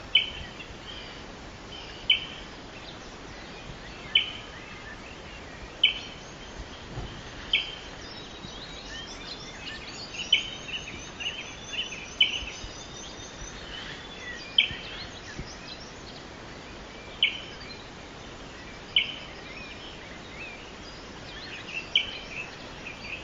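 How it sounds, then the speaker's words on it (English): Calls of the Mātātā, the New Zealand fernbird, sound as short, faint, high chirps repeated every couple of seconds, some paired as if one bird answers another, over a quiet outdoor background. "So here is the call of the Mātātā."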